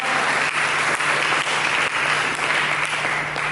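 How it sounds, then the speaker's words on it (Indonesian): Church congregation applauding during an Indonesian worship service, a sustained, even wash of many hands clapping, loud and close, with no talking over it. "Berikan tepuk tangan bagi Tuhan."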